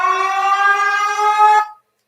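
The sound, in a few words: siren sound effect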